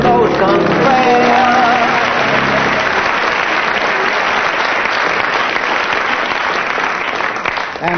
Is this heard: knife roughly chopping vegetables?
no